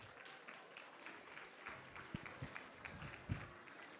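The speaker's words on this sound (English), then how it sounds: "Can you give them another round of applause, please?" Banquet audience clapping for a troupe of steppers, heard as faint, thin, scattered claps that never build into a full ovation, with a few sharper claps standing out near the end.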